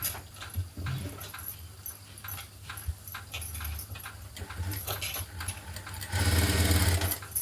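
Sewing machine stitching strips of blouse fabric together for neck piping, a close motor hum with rapid needle clatter in uneven runs that ends in a louder, faster burst.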